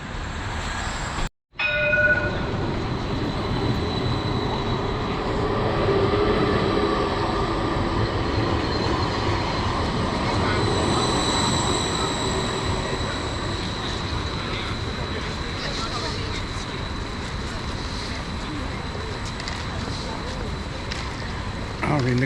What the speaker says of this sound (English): Here's the tram coming now.